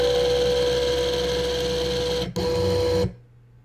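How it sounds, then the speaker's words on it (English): A light-controlled linear actuator retracts to its set position with a steady electric motor whine and gear hum, pausing briefly, running on, then stopping abruptly into near silence. "my linear actuator should move back to that exact position"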